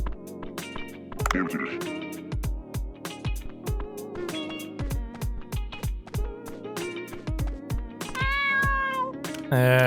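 A cat in the video game Dave the Diver meows loudly and repeatedly in drawn-out calls, mixed with background game music and overlapping talk from a speaker.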